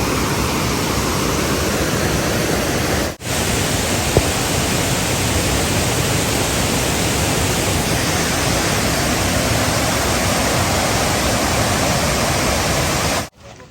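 Rushing water pours over Tat Yai waterfall in Phetchabun, a loud, unbroken roar close by, with two brief cuts in the steady wash.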